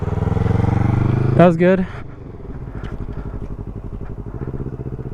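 A motorcycle engine running close by as a learner rider works the throttle, a steady hum that settles into a low, even idle chug, with a voice speaking briefly over it.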